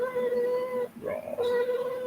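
A cat yowls and meows up close: a long, drawn-out wailing cry that dips, then rises into another sustained yowl, loud and continuous.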